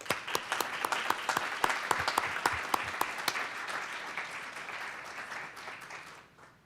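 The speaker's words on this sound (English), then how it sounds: "So I think it'd be appropriate to give them all a hand of applause." A room at an Alpine School District board meeting breaks into applause for students, a dense burst of clapping that holds steady for several seconds before thinning and fading out.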